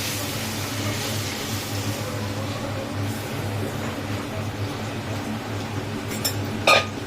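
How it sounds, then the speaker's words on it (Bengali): Masoor lentils fry with jute leaves in a pan: a steady low hiss of frying runs throughout, and a utensil gives a few sharp clinks against the pan near the end. "এবার এর মধ্যে এই যে ডালটা ভেজে দিচ্ছি"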